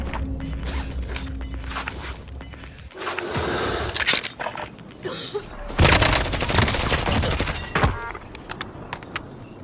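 Rapid gunfire in a video game, with bursts of shots and sharp cracks over a busy battle background, getting louder toward the middle, with faint voices.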